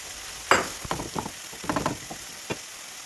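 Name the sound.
chicken frying with onion in a pan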